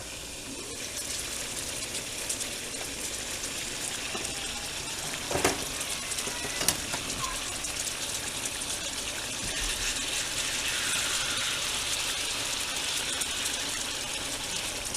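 Freshly flipped burgers sizzle on a grill, giving off a steady, close hiss of frying grease that grows slightly stronger toward the end, with a couple of brief clicks partway through.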